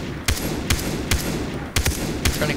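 Gunshots in the Far Cry 3 video game; sharp, loud reports sound about every half second against a dense background rumble, some close together, with no talking.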